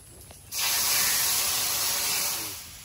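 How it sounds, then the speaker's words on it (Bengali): Water poured into a pan of fried papaya, a sudden loud sizzling hiss that bursts in, holds steady for about two seconds, then fades. "পেঁপেটা ভেজে নিয়েছি, এবার জল দিয়ে দেবো।"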